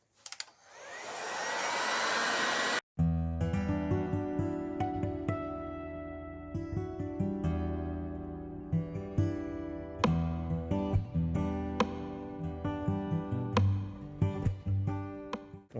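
A heat gun blows onto a Kydex sheet for a knife sheath, a rushing hiss that swells in over the first moments and holds steady for a couple of seconds before cutting off abruptly, after which music plays.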